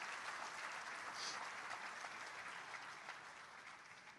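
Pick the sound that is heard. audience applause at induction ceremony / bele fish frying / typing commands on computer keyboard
audience applause at induction ceremony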